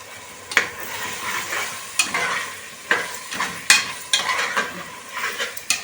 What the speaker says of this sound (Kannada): ಅಲ್ಲಿ ತನಕ ಒಳ್ಳೆ ಫ್ರೈ ಕೊಡೋಣ